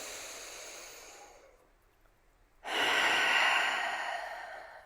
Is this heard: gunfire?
no